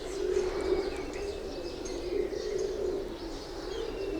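A breeding pair of pure Kamgar pigeons coo in low, throaty, repeated calls close by, with faint chirps from other birds in the loft behind them.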